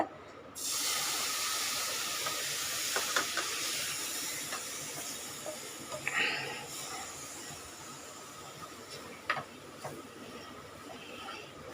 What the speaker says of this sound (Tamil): இப்போ நம்ம இதில் ஒரு முக்கால் கப்பு பால் விட்டுக்கோங்க